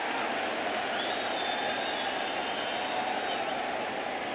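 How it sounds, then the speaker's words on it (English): Baseball crowd at a Phillies–Mets game in New York, 2009, a broad, steady roar of fans cheering throughout the stadium, distant and sustained with no distinct voices. "the fans seem to be cheering"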